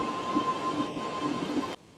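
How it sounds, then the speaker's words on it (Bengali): A Lucknow metro train pulls into a station with a steady rolling rumble and thin squealing wheel tones, then cuts off abruptly near the end. No one speaks. "বলতে বলতে মেট্রো চলে এলো।"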